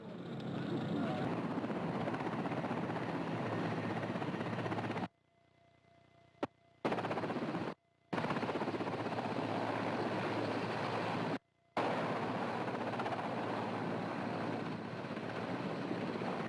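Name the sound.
Russian Mi-8 helicopter flying at Soyuz landing site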